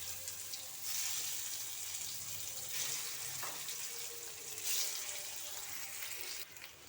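Potatoes sizzle steadily in hot mustard oil in a pan, a soft continuous frying hiss with a few louder bursts.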